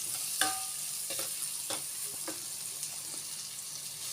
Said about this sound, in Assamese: নিমখ দিয়াৰ পিছত মই অকণমান লৰাই ল'ম যাতে বিলাহীখিনি অকণমান ভালদৰে সিজি যায়।